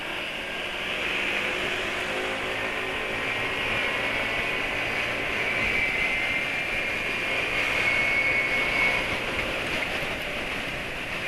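A motorcycle fitted with a new intake and running Pertalite fuel drones loudly and steadily, its engine and exhaust noise holding a broad roar with a slight rise in pitch near the middle, heard alone without talk.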